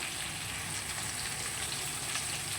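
Chopped onion sizzles in hot oil in a pan while a taro and prawn curry is being cooked. A steady, close hiss of frying runs unbroken, with no talk.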